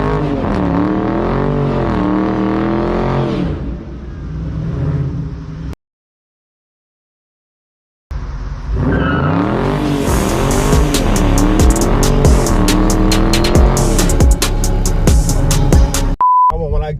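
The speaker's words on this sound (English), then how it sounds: "I want to be able to hear my engine. I want to hear my gears changing." A muscle car engine roars close by, its pitch climbing and dropping through repeated revs and gear changes. A brief silent gap breaks the run before the engine returns loud with tire squeal, and a short beep sounds near the end.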